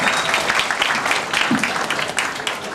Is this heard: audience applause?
yes